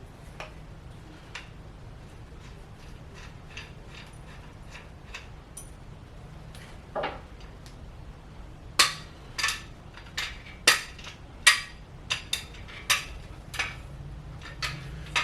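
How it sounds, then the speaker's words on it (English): Cam bearings being hammered into a 292 engine block, with sharp metallic strikes that start sparse and faint and then become louder, spaced whacks in a steady rhythm, with no talking. "put this in the front hole to kind of keep it straight, and you whack it there"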